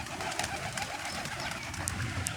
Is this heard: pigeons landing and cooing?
yes